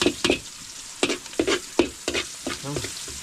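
Dalag fish (snakehead) frying over a wood fire, with a crackling sizzle and rapid, irregular spoon scrapes and taps against the pan, close and fairly loud with no talk.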